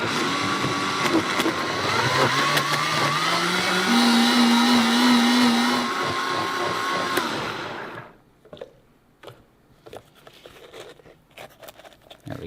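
A blender whirs loudly and steadily with a shifting motor pitch for about eight seconds, then cuts off, leaving faint clicks and handling noises.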